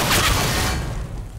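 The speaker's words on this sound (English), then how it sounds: "Deploying flashbang!" Flashbang grenade going off in Counter-Strike on the Nuke map, a single loud burst that fades into a hissing ringing decay over about a second, with no talking.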